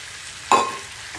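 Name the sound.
eggs added to a pan of fried bottle gourd, sizzling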